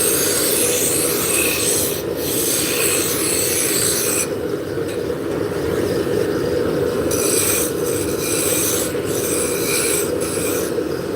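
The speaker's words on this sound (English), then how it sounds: "So I'm using a roughing gouge to just get the basic shape in." Roughing gouge shaping a wood blank on a spinning lathe, giving a loud, continuous rasping and scraping over the steady motor hum, with slight shifts in tone as the cut changes.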